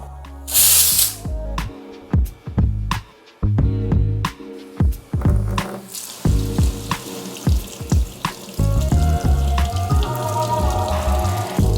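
Tap water runs and splashes over a hot pressure cooker of sweet corn in a home kitchen. A hissing spray mixes with metallic clinks and clatter as the cooker is moved under the stream.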